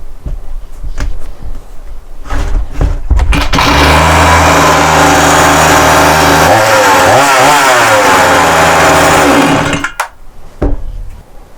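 A STIHL MS 180 chainsaw, its clutch removed, is pull-started and runs loud and close, holding a steady high idle with a short wavering rev before cutting out abruptly.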